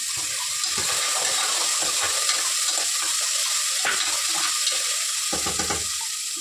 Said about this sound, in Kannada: ಈರುಳ್ಳಿ, ಟೊಮೆಟೊ ಮತ್ತು ಏಲಕ್ಕಿ ಇಷ್ಟನ್ನು ಹಾಕ್ಕೊಂಡು ಚೆನ್ನಾಗಿ ಫ್ರೈ ಮಾಡ್ಕೋಬೇಕು.